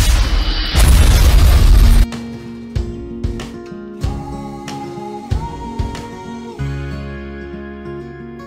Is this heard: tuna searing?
no